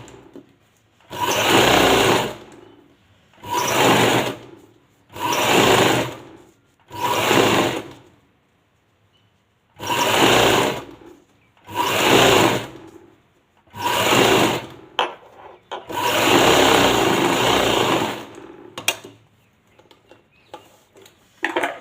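Sewing machine stitching fabric for a neckline, running in short repeated bursts of steady whirring separated by brief pauses, with a longer run near the end; close and clear with no talk.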